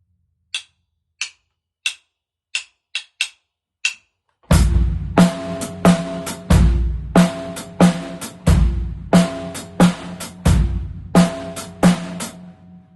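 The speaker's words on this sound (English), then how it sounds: "then we'll put a bass drum on beat 1 and snare on beats 2 and 3" A count-in of sharp clicks, then a steady drum beat with a deep kick on beat 1 and crisp snare hits on beats 2 and 3, repeating in a loping triple rhythm, played close and loud.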